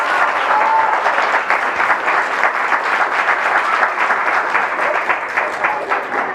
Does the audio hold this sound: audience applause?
yes